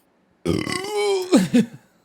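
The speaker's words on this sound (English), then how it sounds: "I got a burp" A man lets out a single loud, close burp into a microphone after eating leftover Neapolitan-style pizza, a drawn-out croaking belch with a rough bubbly finish, alone without talk.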